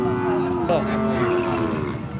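A Khillar cow at a cattle market in Sangola lows in a long, drawn-out moo with a steady tone, close and fairly loud, over a faint background hum.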